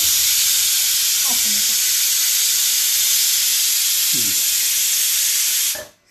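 A pressure cooker releases its steam in a loud, continuous hiss that fills the whole stretch before cutting off near the end, with brief faint voices underneath.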